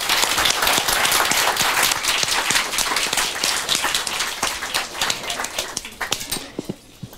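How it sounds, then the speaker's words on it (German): An audience at a youth hackathon event claps loudly in a dense burst of applause that stays strong for several seconds, then thins into scattered individual claps and fades out near the end. "Ich finde, das hat einen großen Applaus verdient."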